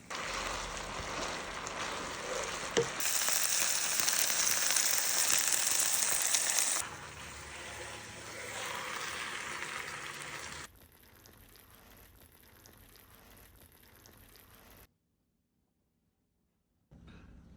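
Spaghetti fries in a hot pan with a hissing sizzle that shifts in strength across several cuts. It ends in a stretch of near silence before a brief quiet return.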